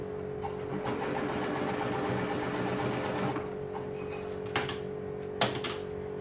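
A sewing machine stitching fabric for a boy's tank top runs in a steady, even whir for about four seconds, then slows into a few separate clicks and thumps.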